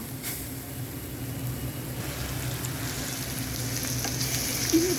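Oil goes into a pan of desi magur fish and onions, producing a steady, moderately loud frying hiss that swells slightly toward the end, with no talking.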